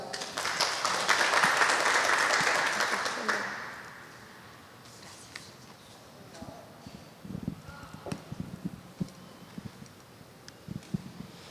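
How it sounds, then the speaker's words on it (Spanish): An audience at a university nutrition program event welcomes a speaker with a few seconds of steady applause, then the clapping fades into scattered claps, shuffling and room noise. "Recibámosla con un fuerte aplauso"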